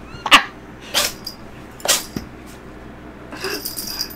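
A cat gives a few sharp, short sneezes, spaced about a second apart, close and loud, followed by a brief rustle.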